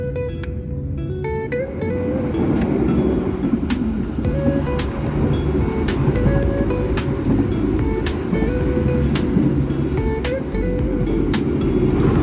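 KA Logawa passenger train runs on the Purwokerto–Jember route, heard from inside a business class carriage: a constant loud rumble of the moving carriage with regular sharp clicks from the rails throughout.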